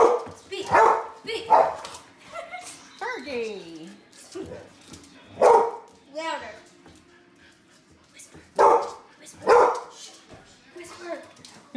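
A dog barks and yips in short bursts on command, with several sharp barks and a whimpering sound spread across the clip, mixed with a person talking nearby in an indoor home setting.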